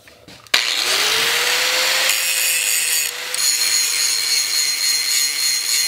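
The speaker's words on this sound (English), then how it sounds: "I wanna go ahead and continue to grind this stuff away and shape it" A power grinder shapes metal for a pair of custom forward control mounts on a Honda Grom: an abrupt start into a loud, continuous high-pitched grinding whine with a slowly rising tone, running steadily and close throughout.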